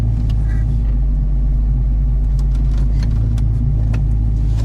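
A car with a newly fitted 3.73 rear gear set drives along with the windows up, a loud steady engine and road rumble filling the cabin throughout, no talk.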